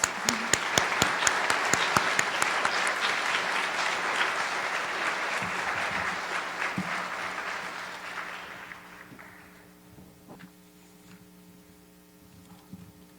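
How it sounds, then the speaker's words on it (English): Applause from an audience recognizing schools at an award ceremony for an art and writing contest, sustained clapping from many people that gradually fades out, leaving a faint electrical hum and scattered claps. "Please clap and recognize all the schools."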